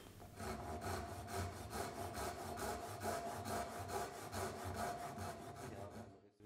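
A hand saw cuts down the inner edge of a wooden workpiece for a mitred mortise-and-tenon joint with a rebate, in steady, even back-and-forth strokes that run close and continuous before stopping at the end.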